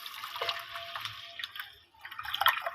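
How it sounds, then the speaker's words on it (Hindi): Water poured from glasses into a pot of lentils seasoned with mixed masala and salt for daal, a steady splashing pour that briefly pauses then resumes with brighter trickling. "अब इसमें मैं 4 गिलास पानी ऐड कर रही हूँ"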